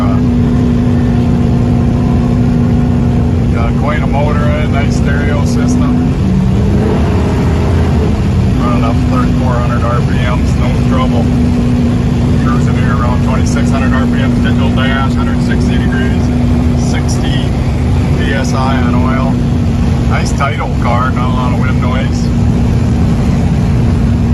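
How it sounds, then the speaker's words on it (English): A 1963 Chevrolet Biscayne with dual exhaust drives along, its engine a steady loud droning rumble with a sustained tone throughout, while someone talks over it nearly the whole time. "Got some nice sounding dual exhaust."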